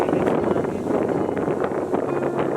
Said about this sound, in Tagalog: Mahangin, no?